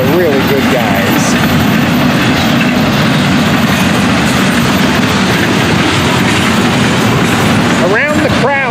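A freight train with tanker cars passes close by, loud and continuous with rhythmic clickety-clack wheel noise and brief squeals near the end.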